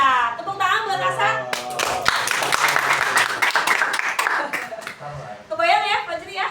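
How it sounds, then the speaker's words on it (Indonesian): A classroom of students clapping for a classmate's correct answer in a maths lesson, a burst of applause lasting several seconds, with a teacher's voice heard before and after. "Ya, tepuk tangan buat Rasa."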